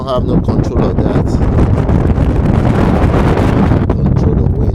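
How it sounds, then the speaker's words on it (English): Strong outdoor wind buffets the microphone during a Honda Accord 2.4L valve cover gasket job, a loud, continuous rumbling roar filling the clip with no letup. "wind is really blowing today."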